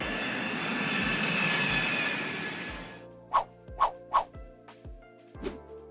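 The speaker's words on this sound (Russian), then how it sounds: "А теперь пристегните ремни безопасности, мы взлетаем." A Tupolev Tu-214 jet airliner's engines roar steadily for about three seconds and then cut away, followed by several sharp knocks and thumps.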